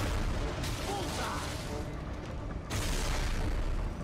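Missiles explode in the action video game Metal Gear Rising: Revengeance, a dense, loud wash of booming blasts and mechanical game noise that swells, dips briefly, then surges again.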